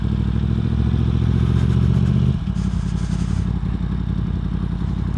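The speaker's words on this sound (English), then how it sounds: "We'll pull up, park the bike, and see what's going on here." Yamaha MT-10 motorcycle engine rumbling steadily up close as the bike rolls in to park, a loud idle-like drone that changes pitch and eases partway through.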